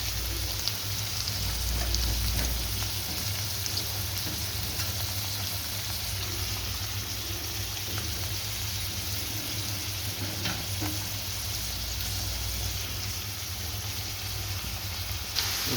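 Green chilies and curry leaves frying in a pan for an old-style egg burji give off a loud, steady, continuous sizzle like light rain, with faint stirring scrapes underneath throughout.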